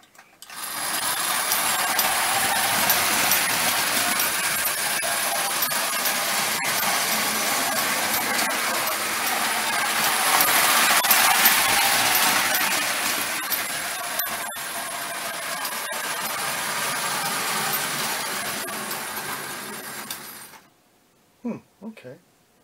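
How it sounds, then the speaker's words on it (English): Marx No 994 wind-up toy train engine pulling three or four cars on a layout, a steady close whirring clatter running for about twenty seconds before stopping, followed by a couple of brief knocks. "well this engine runs with these three, four cars attached to it."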